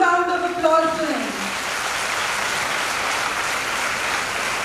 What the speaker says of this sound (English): If yes, give a huge round of applause to him.